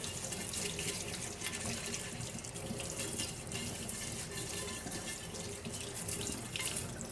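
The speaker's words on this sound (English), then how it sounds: "I think it's warm enough to rinse off the ketchup from my plate." Warm tap water runs steadily into a sink to rinse ketchup off a plate, a constant close splashing flow with no talk.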